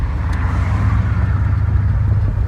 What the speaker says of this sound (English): Gotta wait for this little Ford to go